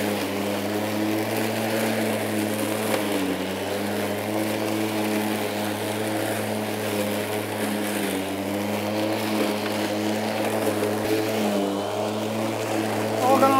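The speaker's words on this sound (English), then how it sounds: "We're just gonna let the self-propel actually pull it through because it will automatically adjust the speed of the drive for what it's actually cutting through." Kress 60V self-propelled battery mower, model KG760E with a 51cm deck, cutting grass; a steady close electric motor whine with layered harmonic tones that dip briefly now and then as the load changes, continuous throughout.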